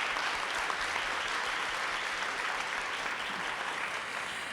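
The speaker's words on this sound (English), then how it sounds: "So we can give them a round of applause too." Sustained audience applause fills a policy and partnership session, a dense steady wash of many hands clapping at even loudness with no talk over it.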